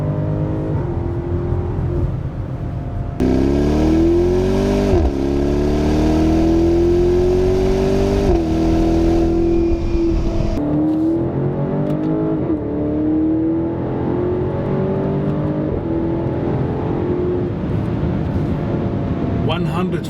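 A 2019 BMW X5 50i M Sport with a 4.4L V8 accelerating hard through the gears, its engine tone climbing in pitch and dropping at each upshift, loud and continuous with someone talking over it.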